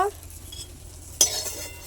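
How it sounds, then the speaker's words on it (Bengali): Chillies are dry-roasted in a wok, giving a quiet, scratchy stir with a single metallic clank from a utensil against the pan partway through. "ঝালগুলো একটু কড়াইতে দিয়ে আউড়ে নেব"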